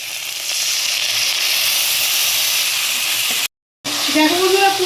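Onion, tomato and a spice paste of cumin, coriander, turmeric, ginger, garlic and chilli fry in oil, giving a steady close sizzle and hiss that breaks off briefly near the end, with a voice coming in.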